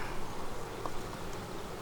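Kryo honey bees buzz around an open hive during an inspection, a steady, dense hum of many wings close by that stays even throughout, with no talking.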